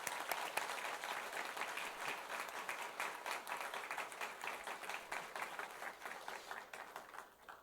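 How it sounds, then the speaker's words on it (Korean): Congregation at a church entrance-welcome worship service applauding eight newly admitted cadets, steady sustained clapping from a large crowd that thins slightly toward the end. "이 8명의 사관학생들에게 다시 한번 뜨거운 격려의 박수를 부탁드립니다"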